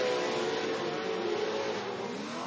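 A TORC Pro 4 off-road race truck engine revs hard in a continuous loud roar with a strong tonal whine, steady throughout and fairly close, with no voices heard.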